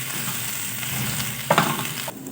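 Dry prawns and brinjal pieces stirred and fried in hot oil, a steady sizzle with soft spoon scrapes and a louder clatter of stirring near the middle, then the hiss briefly drops away.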